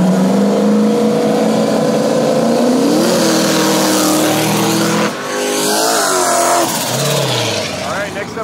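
No-prep drag race cars, including a Nova, roar loudly as their engines rev and shift, a continuous close engine drone with rising pitch sweeps, while a commentator talks over the noise.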